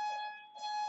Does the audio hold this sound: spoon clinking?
no